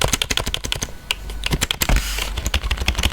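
A basic membrane keyboard typed on rapidly up close, dense clattering keystrokes running steadily with no talking.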